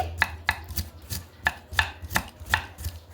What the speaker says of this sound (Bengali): একটা পেঁয়াজ আমি খুবই মিহি মিহি করে কেটে নিচ্ছি, একেবারে ঝিরিঝিরি করে কাটছি